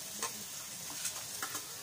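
A pan of frying sisig is stirred after a salted egg goes in, with a soft, steady sizzle under a few sharp scraping strokes of the utensil.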